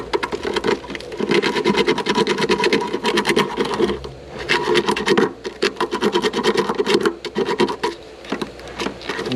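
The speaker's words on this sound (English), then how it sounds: "Let's take off some paint there. There's a lot of paint there. I'm just gonna use sandpaper," Sandpaper rubs paint off a part on a 2023 Genesis GV70, a steady, close scraping rasp in repeated strokes with a few brief pauses, heard alone.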